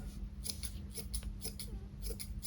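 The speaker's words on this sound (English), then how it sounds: "you're using scissors on a cat" Scissors trimming a Persian cat's fur during a lion cut, a series of quick metallic snips in an irregular rhythm, close and fairly faint over a low steady hum, with no talking.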